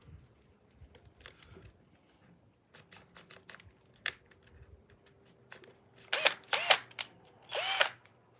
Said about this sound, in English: Then I'm going to have to drill it up here.